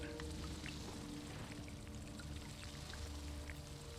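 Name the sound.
water harvesting in video game Dune Awakening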